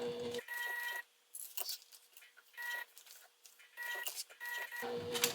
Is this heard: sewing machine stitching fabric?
yes